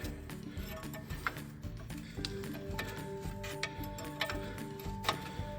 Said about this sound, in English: this is a flare nut that we're tightening on